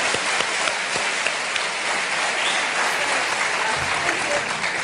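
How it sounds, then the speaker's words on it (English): An audience claps for an orator at a religious debate featuring Ahmed Deedat: full, continuous hand-clapping from a large hall crowd, loud and even, with a few sharper individual claps standing out. "give him another clap for that. Give him a clap."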